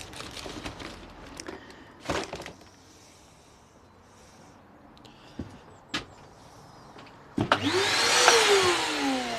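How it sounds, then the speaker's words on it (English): A Hoover vacuum cleaner starts up abruptly near the end with a rising motor whine and airy roar, close and loud, after scattered knocks and clunks in a quiet room. "That was the Hoover. I leant on it."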